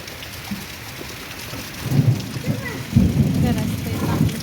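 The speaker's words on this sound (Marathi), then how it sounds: "बघा पडला पाऊस आज आपल्याकडे आला" Heavy monsoon rain pours down in a steady, hissing wash that swells louder halfway through, drumming on nearby surfaces.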